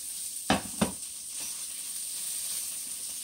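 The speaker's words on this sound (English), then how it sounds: "So I'm just going to dump the shrimp in with those" Shrimp tossed into a pan with peppers and onions gives a soft, steady sizzling hiss, broken early by two sharp clatters close together.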